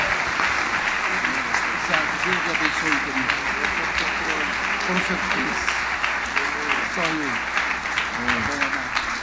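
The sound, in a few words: congregation applauding at convention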